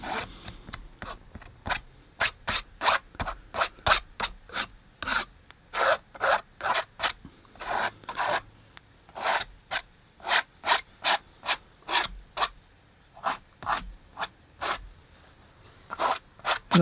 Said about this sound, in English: scrape off a little bit of really super thick paint that I see